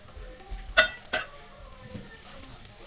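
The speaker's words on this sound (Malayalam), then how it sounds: "ഇനി നമുക്ക് ഇതിലേക്ക് നമ്മുടെ ഫ്രൈ ചെയ്ത് വെച്ചിരിക്കുന്ന ചെമ്മീൻ ചേർത്ത് നന്നായി മിക്സ് ചെയ്യാം." Fried prawns mixed with spices in a pan, two sharp spatula clanks against the metal over a low sizzle, then quieter stirring.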